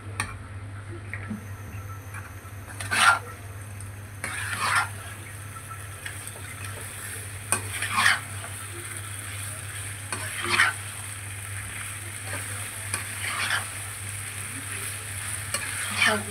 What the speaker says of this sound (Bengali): তারপরে আমি একে দিয়ে ভালো করে কষিয়ে নেব।